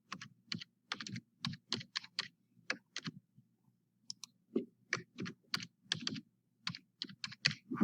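Rapid keystrokes on a computer keyboard as a username and password are entered, a steady stream of close, crisp clicks in short bursts with small gaps, no voices.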